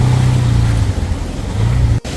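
Auto rickshaw engine running and driving on a road, a loud close motor drone with a steady low tone that rises, dips, and returns before a brief cut near the end.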